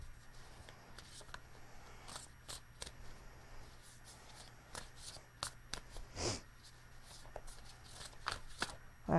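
Tarot cards are shuffled and riffled in short, soft bursts, with faint papery slaps scattered over a quiet background hum.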